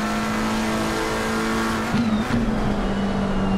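Race car in the ACC sim racing game at Oulton Park, its steady engine drone dropping into second gear with a brief rev change and tire noise midway, loud and close throughout.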